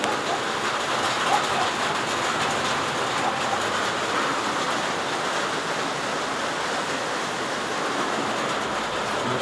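Heavy rain pours steadily over a house in Samara in a dense, continuous hiss, with runoff splashing past overflowing window drip edges, loud and close throughout with no voices.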